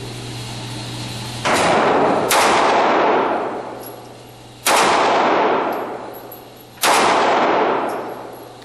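Four sharp, loud pistol shots from a Sig P938 at an indoor range, each a hard crack with a long ringing decay, spaced a second or two apart and heard alone without talk.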